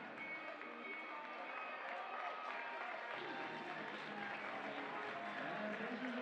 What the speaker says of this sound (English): The crowd here, as they always do, ringing the glass along the outside of this 200-meter banked oval